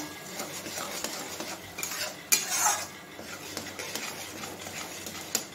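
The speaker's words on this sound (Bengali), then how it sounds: "এবার মশলাটাকে একটু ভালো করে কষে নেব" Spice masala stir-fried in a pan for a vegetarian Bengali shahi paneer, with steady scraping and clinking of a spoon against the pan, a louder clatter near the middle and a faint sizzle underneath.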